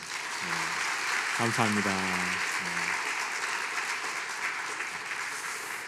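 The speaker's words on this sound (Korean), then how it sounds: "우리 격려의 박수 부탁드리겠습니다" Church congregation applauding during a Sunday service to encourage a departing minister. The clapping is a steady, even patter that lasts throughout, and someone speaks briefly over it near the start.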